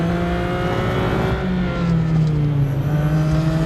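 Ferrari F50 engine racing in Real Racing 3, a steady loud drone with rising and falling engine pitch as the car accelerates and shifts, continuous and close throughout with no talking.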